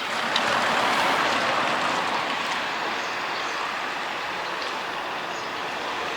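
A train rolls along the rails with a steady, dense rumble and hiss, as if heard from inside a carriage, constant throughout.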